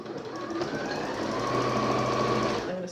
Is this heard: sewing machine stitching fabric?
yes